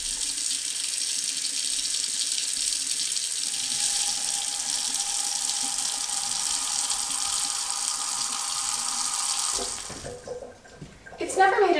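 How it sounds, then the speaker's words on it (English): Hot tap water pours steadily over a frozen coffee, a close, even rushing hiss that runs for about nine seconds before cutting off, followed by brief clattering handling sounds. "so I need to run this under hot water."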